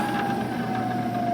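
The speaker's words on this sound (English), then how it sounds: "And we can turn the spindle off" A Prototrak milling machine spindle whines with a steady, thin tone as it is switched off after profiling an oil drain part, holding a near-constant pitch over a low mechanical hum.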